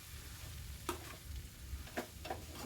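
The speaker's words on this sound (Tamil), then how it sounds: "நல்லா ஒன்றா கிளறிப்போம்" Egg noodles tossed with masala sizzle softly in a pan, punctuated by a few light taps and scrapes of a spatula as they are stirred.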